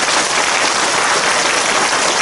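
A church congregation bursts into loud, close, continuous clapping, a dense wash of applause with no voices over it.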